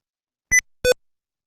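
A phone-line meeting timer prompt warning of 30 seconds remaining: two short electronic beeps, the second lower in pitch, spaced about a third of a second apart, clean and alone in silence.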